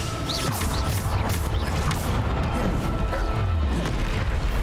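A Depulso force-push spell cast in the wizarding game Hogwarts Legacy, with dense, continuous booming and crashing combat effects that stay loud throughout and have no clear gaps.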